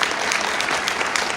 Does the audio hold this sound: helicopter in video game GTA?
no